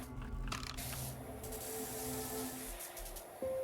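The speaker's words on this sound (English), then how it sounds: "I'm going to be spraying dirt back onto the display" A pressure washer in the game PowerWash Simulator 2 spraying dirt across a display: a steady, close hiss of spray with brief mechanical clicks and a faint tonal chime at the end.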